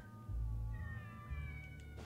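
Several cats meowing in the video game South Park, with thin high-pitched mewing calls overlapping above a steady low background hum, fairly close and continuous.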